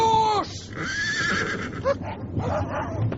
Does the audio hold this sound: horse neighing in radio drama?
yes